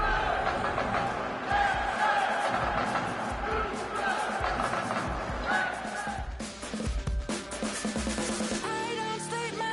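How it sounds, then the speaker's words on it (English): A sellout stadium crowd in Madden 26 at Takeover Stadium in Cincinnati roars and cheers as a dense, continuous wall of noise under commentary, with band-like tones rising near the end. "sellout crowd has arrived at Takeover Stadium in Cincinnati"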